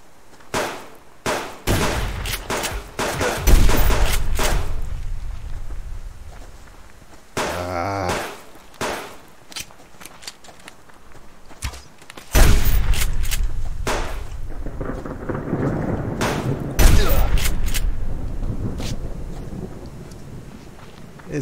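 Repeated shotgun blasts ring out in Subsistence gameplay, loud bursts in irregular clusters with gaps between, over wind noise.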